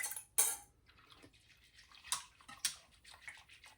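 A whisk stirs yogurt culture into yogurt in a pressure cooker pot, making quiet, irregular clinks and scrapes with soft wet swishes between them, close and faint, with no voices.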